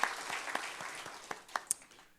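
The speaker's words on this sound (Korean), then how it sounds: "우리 하나님께는 영광의 박수, 이길 남성교회는 격려의 박수를 돌립니다" Congregation applause in a church during a Friday worship service, fairly faint and brief, with scattered individual claps standing out over a soft crowd patter.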